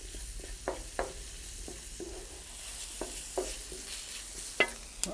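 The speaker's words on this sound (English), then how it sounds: "First thing to go in is the onion. We're just going to cook this through for about 3 or 4 minutes" Onion frying in a pan for a British Indian restaurant-style chicken balti, a quiet constant sizzle broken by regular spatula scrapes and taps against the pan, with no voices.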